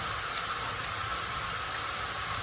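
Ground spices such as cumin and coriander sizzle steadily in a hot pan for a fish dish, a continuous soft hiss with one brief tick near the start and no talking.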